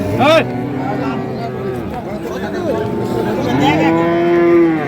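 A loud, close Sahiwal bull moos several times, the long low calls rising and falling, with people chattering in the background at a cattle market.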